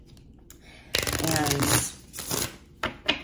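Tarot card decks are riffled and shuffled in a few quick bursts of papery flutter and slapping, fairly close and moderately loud, with a voice speaking briefly between the shuffles.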